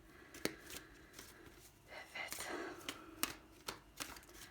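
Cards are shuffled and drawn for a reading, with quiet, close riffling and flicking bursts broken by several sharp snaps, all faint and intimate.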